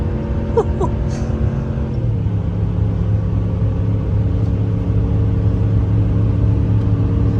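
Ram 1500 Laramie pickup engine held near redline while towing a roughly 4000-pound trailer, a steady loud drone with layered engine harmonics that drop slightly in pitch after about two seconds, then continue evenly without talk.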